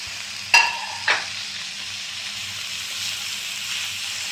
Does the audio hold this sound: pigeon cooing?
no